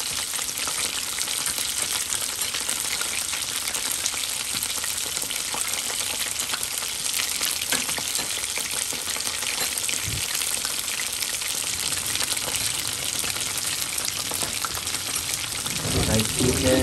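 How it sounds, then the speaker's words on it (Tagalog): Chicken frying in a pan, a steady dense sizzle and crackle of hot oil running continuously throughout, with a brief soft clatter near the end. "Fried chicken."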